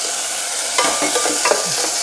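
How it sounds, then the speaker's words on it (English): Onion and potato sauté in a 1 to 2 quart Korean stone pot, a constant close sizzle broken by a few scraping stirs of the spoon, with no voices. "I'm gonna saute them"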